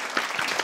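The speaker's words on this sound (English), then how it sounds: "let's give Moritz a big round of applause" Brief burst of audience applause for a stand-up comedian in an online video call, a short, even patter of clapping.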